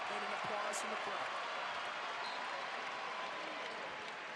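Crowd applause at a 2020 North Carolina versus Gardner-Webb college basketball game, a broad steady wash of clapping in a large arena that holds throughout and fades slightly toward the end, with faint voices in the background.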